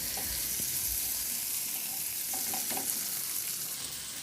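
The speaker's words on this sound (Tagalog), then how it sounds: "At isabay ko na rin sa paghalo yung karni para masabay na rin sa paggisa" Pork liempo, tomato and onion stirred and sautéed in a pan, with a steady hiss of frying and scraping spoon strokes throughout, close and alone.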